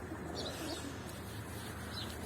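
Soft, low cooing of a pigeon sits under a dense wash of background noise, faint and continuous.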